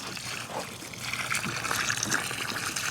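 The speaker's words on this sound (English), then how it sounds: "so we can pour the water in" Water pours into quick-setting Quikrete concrete packed around a post in the ground, a light, uneven trickle and splash that runs steadily throughout.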